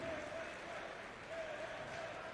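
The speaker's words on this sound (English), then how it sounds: "The cheers in the crowd right now." A crowd cheers and applauds at the Saudi Arabia vs Finland World Cup semi-final, a distant, fairly faint wash of clapping and crowd noise that holds steady throughout.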